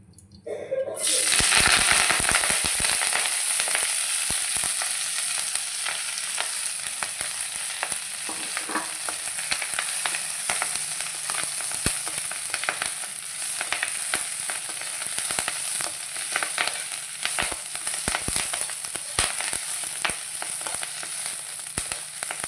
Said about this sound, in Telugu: మునగాకును నేతిలో వేయించుకోవాలన్నమాట